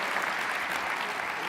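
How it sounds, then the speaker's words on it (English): A keynote audience gives a dense, steady round of clapping that holds at an even level for the whole brief stretch. "Let's give Tony Little a round of applause on that one"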